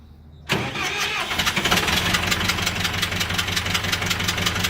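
A John Deere 410 backhoe loader's engine cold-starts after two weeks idle, catching abruptly from near silence into a loud, steady rumble with a dense pulsing knock that settles into idle.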